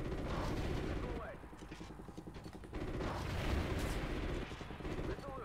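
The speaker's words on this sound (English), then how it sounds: "Missile away." Missile launches and heavy combat rumble from the video game Call of Duty: Ghosts, a dense continuous roar of booms and firing with rising swells, a voice talking over the din.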